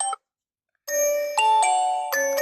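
The Elegant Simple ringtone plays on an Infinix Smart 10 phone: a short chime, a brief pause, then a clear, bright melodic tone sequence with sustained harmonic notes changing pitch several times, loud and close with no talking.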